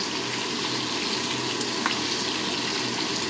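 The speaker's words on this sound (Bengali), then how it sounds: "দেখো আমি ঘুরিয়ে ঘুরিয়ে সব দিকটাই ভেজে নিচ্ছি" Pointed gourds (potol) frying in a pan of hot oil, turned over and over, giving a dense continuous sizzle close up with a faint clink of a utensil.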